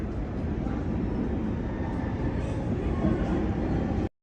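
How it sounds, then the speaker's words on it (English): A New York City subway train rumbles past, a loud, continuous roar of wheels and cars close by that ends abruptly. "I'll wait for like 2 more trains before I actually hop on the train"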